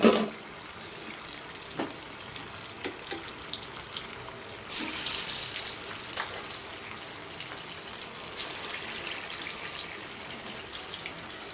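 Chicken 65 pieces drop into hot oil partway through and set off a sudden, steady deep-frying sizzle. Before that there are only quiet scattered clinks.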